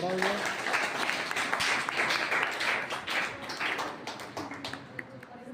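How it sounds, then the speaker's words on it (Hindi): An audience at a school debate and discussion event claps steadily for several seconds, a dense patter of hands that fades slightly toward the end. "जोरदार ताली"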